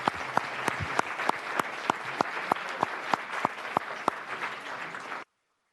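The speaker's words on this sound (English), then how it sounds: "I think we all owe them a debt of gratitude and applause." Applause for medical staff fills a legislative hearing room at a House health subcommittee: steady, moderately loud clapping with a few sharper individual claps standing out, ending abruptly after about five seconds.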